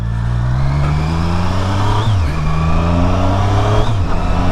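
A Triumph Street Triple 765R motorcycle engine hums steadily while being ridden, loud and close, with its pitch rising through the gears and dipping briefly at shifts.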